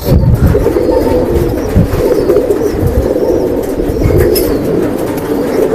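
Low, throaty cooing of a Silver-breed pigeon in a loft in Old Dhaka rolls on almost continuously over a dense murmur of other birds, steady and fairly close, with no voices.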